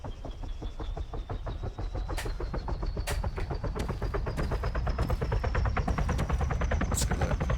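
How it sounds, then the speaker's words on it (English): A helicopter in the Arma 3 video game, with steady rapid rotor chopping and a rising turbine whine that grow gradually louder, close and continuous, with no talk over it. "You hear the helicopter."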